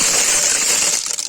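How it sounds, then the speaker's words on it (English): Clams tumble into a pot of clam chowder in one brief, loud clattering rush of shells knocking together, then trail off into a few scattered clicks. "Then, simply add the clams."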